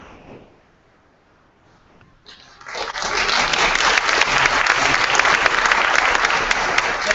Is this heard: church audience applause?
yes